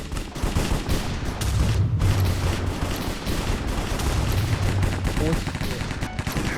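Dense rapid gunfire from a CS:GO-style Minecraft video game plays loud and continuous, with overlapping bursts of shots filling the clip.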